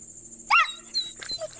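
A single sharp dog bark rings out at a barn pond setting, followed by fainter yips and scattered small noises.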